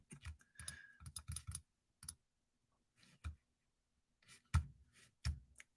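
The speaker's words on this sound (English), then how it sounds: "Click more buttons." Scattered sharp button clicks, some in quick clusters and others spaced apart by quiet gaps, close and fairly faint, with no voice.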